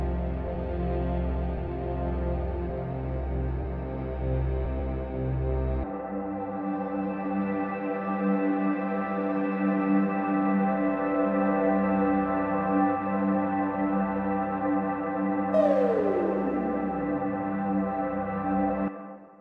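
Synthesizer sounds being played for recording: layered sustained tones that shift abruptly to a new chord partway through, followed by a descending pitch sweep near the end, steady and alone.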